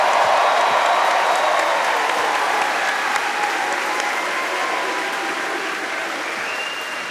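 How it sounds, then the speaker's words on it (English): Loud, sustained audience applause for an author at the close of a Halloween night storytelling event, a dense wash of clapping that holds steady and slowly eases over several seconds. "Another round of applause for the author back there."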